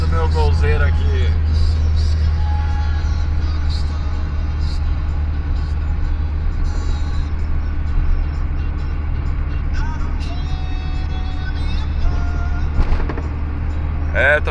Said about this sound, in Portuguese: Eu aqui dirigindo meu golzeiro aqui.